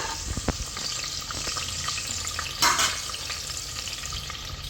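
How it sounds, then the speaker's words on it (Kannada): Sliced onions fry in oil in a pan, giving a steady close sizzle with light scraping stir strokes and one brief louder burst near the middle, with no talking. "ಸೊ ನೋಡಿ, ಇವಾಗ ಫ್ರೈ ಆಗ್ತಾಯಿದೆ."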